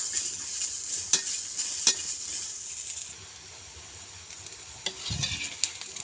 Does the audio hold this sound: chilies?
yes